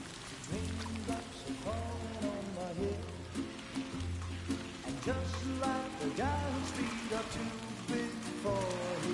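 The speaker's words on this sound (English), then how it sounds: "Those raindrops are falling on my head, they keep falling." Rain patters steadily in the video game Death Stranding 2, mixed under a rhythmic musical score with a pulsing low tone throughout.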